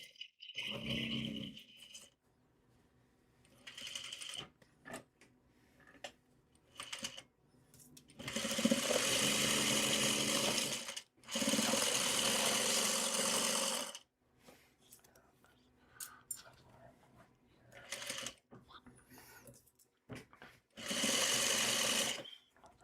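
A sewing machine runs a long seam in several loud, steady bursts of whirring stitching, separated by quiet pauses with faint handling sounds.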